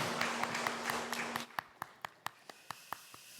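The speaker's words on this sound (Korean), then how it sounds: "약한 자를 강하게 하신 하나님께 영광의 박수 올려드립니다." A church congregation applauds briefly and quietly, the dense clapping fading after a second and a half into a few scattered, evenly spaced single claps.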